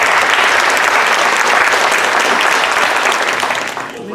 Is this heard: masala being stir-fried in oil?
no